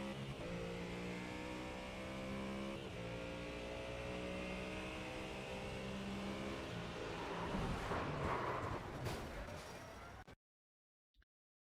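A Mustang race car engine heard at cockpit level in an iRacing replay, a steady loud drone with shifting pitch that rises into a harder rev before cutting off abruptly, then near silence.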